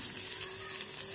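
Chili powder fries in hot oil while being stirred, giving a steady, soft sizzle with light crackle throughout.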